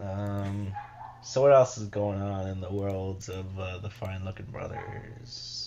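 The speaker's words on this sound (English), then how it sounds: "That's my dog." Coco, a pet dog, lets out a couple of short yips and whimpers in a room while someone speaks in a podcast conversation, the dog sounds brief and partly under the talk.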